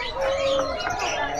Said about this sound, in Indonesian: Burung sehat semua, mulus-mulus.